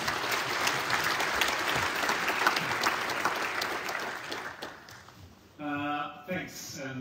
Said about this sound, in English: please, give a big round of applause for Magnus Fontes